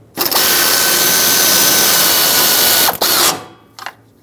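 Power tool driving bolts to secure the AC condenser on a Ram 2500 pickup, a loud, close continuous whirring burst lasting about three seconds, then a short second buzz.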